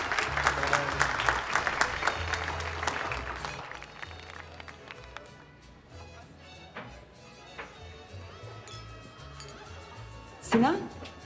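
A small group applauds in a burst of clapping that tapers off over several seconds, with voices talking over and after it in a room.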